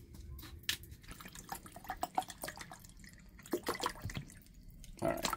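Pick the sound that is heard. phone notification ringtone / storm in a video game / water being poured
water being poured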